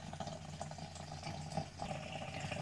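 Gasoline trickles steadily from a motorcycle fuel tank into a jug during a bobber build's switch from a vacuum fuel pump petcock to a manual petcock, a faint, continuous liquid pour.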